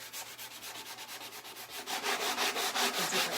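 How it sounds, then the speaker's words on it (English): Light sanding across whitewashed wooden Christmas decor, a steady run of close, rhythmic rubbing strokes that grow a little louder and harsher toward the end, with no talk. "sand it just a little bit. Because I really just want I want some of the wood to peek through"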